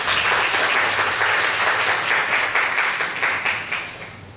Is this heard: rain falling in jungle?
no